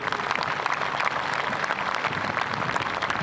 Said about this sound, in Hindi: एक बार जोरदार तालियों से अपना आभार व्यक्त कीजिए